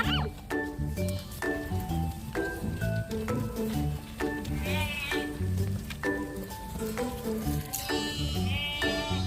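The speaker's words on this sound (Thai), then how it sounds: "แกะสีน้ำตาล" Brown and black sheep bleat repeatedly during feeding, several close, wavering calls overlapping in an irregular rhythm, with faint rustling and occasional voices in the background.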